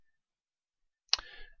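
A single sharp mouse click on an upload-sound button, sounding alone after a stretch of silence, with a short clattery tail.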